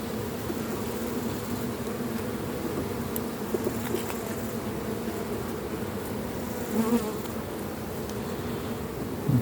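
Honeybees buzz in a dense, continuous drone, close by, with individual bees rising and passing near at moments.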